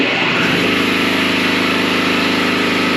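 A small air compressor in the maintenance area of locomotive ATSF 2926 runs with a loud, steady mechanical drone and low throbbing pulse that holds constant throughout.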